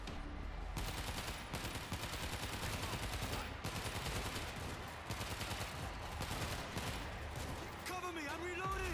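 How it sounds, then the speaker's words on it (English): An auto turret fires continuously in the zombie shooter World War Z, with rapid machine-gun bursts filling the whole stretch while battle noise and shouting voices mix in. "I got an auto turret running!"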